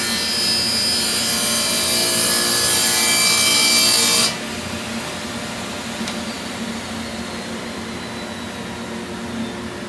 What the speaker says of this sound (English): we're gonna go ahead and cut the miter on that